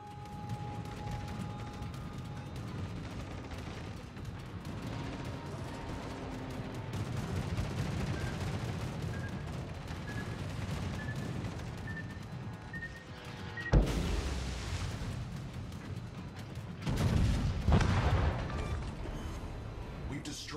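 Distant video-game gunfire during an attack on an enemy cruiser, heard as a steady rumble of shots and heavier impacts, with a louder crash and booms near the end and in-game voice lines over it.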